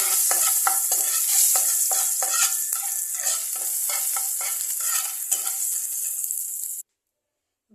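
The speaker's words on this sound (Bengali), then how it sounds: "একটু অল্প পরিমাণে হলুদ দিয়ে দেবো, দিয়ে এটাকে একটু ফ্রাই করবো হালকা করে" Potato pieces frying in a pan with a little turmeric while a spoon stirs them, a steady close sizzle broken by repeated scraping strokes, ending abruptly in silence.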